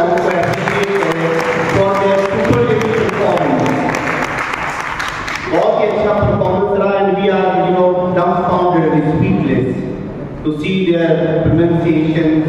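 An audience at a district-level English elocution competition claps loudly for the participants, a dense burst of applause that shifts partway through into voices and cheering mixed with continued clapping.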